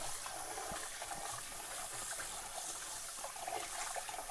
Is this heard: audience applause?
no